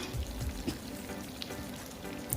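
Chopped onion pieces frying in a pan for a pumpkin pulusu, a steady soft sizzle with faint crackles and a few light stirring knocks, close and even throughout.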